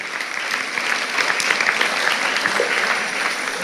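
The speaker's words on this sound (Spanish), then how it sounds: "Un aplauso al Señor por eso, aleluya." A church congregation breaks into sustained applause, a dense wash of clapping from many hands that stays steady for a few seconds, moderately loud and without talk over it.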